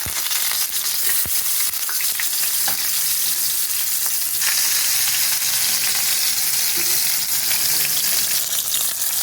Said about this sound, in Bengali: তেলটা গরম হয়ে গেছে, মাছগুলো আমি আস্তে আস্তে দিয়ে দিই।